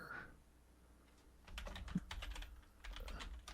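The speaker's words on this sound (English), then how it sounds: "I'm typing mine in right now." Fingers tap on a computer keyboard in a quick, uneven run of clicks that grows busier after a quiet start, close and moderately soft, with no voices.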